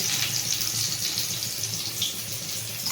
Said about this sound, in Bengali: আবার একটা মাছ নেব এরপর এই তেলের মধ্যে ছেড়ে দেবো